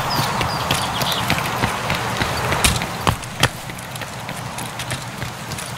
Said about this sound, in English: the sound of the footsteps are more louder, they are more crisp